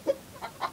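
Young and adult chickens give three short, soft clucks in a row, fairly close and alone.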